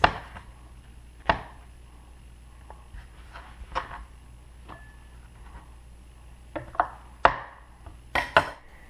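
A kitchen knife chops vegetables in sparse, uneven strikes on a board, several isolated thuds spread out with pauses between them, a brief cluster of quicker cuts near the end, fairly close and alone without talk.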